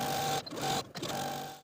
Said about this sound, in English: sew this outer seam once again with a 1/4 inch seam allowance